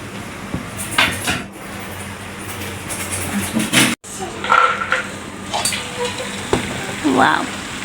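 Potatoes and chicken skin frying in a pan, with a steady sizzle under clattering pot and utensil knocks and a lid being handled, close and moderately loud, a brief voice in the background.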